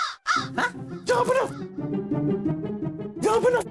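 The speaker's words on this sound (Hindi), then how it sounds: "कौवा आ गया।" A crow caws in short harsh bursts, loud and close, interleaved with voices or other animal sounds in a comic historical TV episode.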